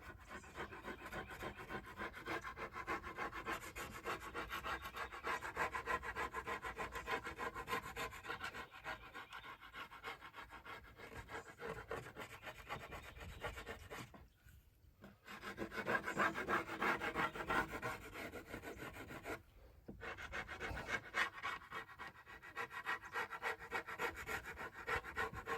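Old glue softened with Goo Gone is scraped off a drum shell with a leftover piece of wood, giving steady, close rasping strokes that run continuously with two brief pauses.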